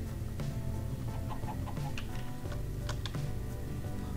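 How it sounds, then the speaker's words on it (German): Chickens in Minecraft give short, soft clucks scattered across a steady low background hum, fairly faint and with no voices. "Über die Hühner hier und die Eier und die Hühnereier."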